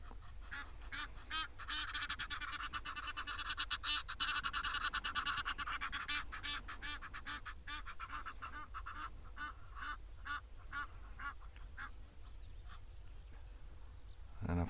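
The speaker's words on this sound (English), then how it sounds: "And of course the geese making the most noise." Geese honk loudly and repeatedly from nearby in a lively outdoor wildlife setting, their calls overlapping in busy bursts with other birds and a low background rumble.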